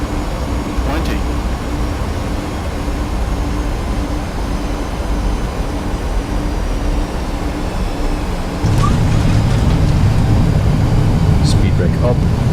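A Lufthansa airliner on its landing rollout after a flight from Elmas to Munich, with speed brakes up and thrust reversers running, makes a steady loud roar that surges louder toward the end, under a pilot's voice.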